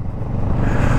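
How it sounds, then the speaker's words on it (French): A Kawasaki Z650RS twin-cylinder motorcycle engine runs close by, a loud, gruff, steady rumble that builds slightly over one second. "Le moteur, je suis pas trop fan du bruit, hein, les bicylindres c'est pas mon truc."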